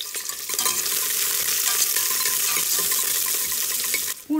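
Cumin, garlic and green chillies fry in hot oil with a loud, bright, continuous sizzle close by that cuts off abruptly at the end.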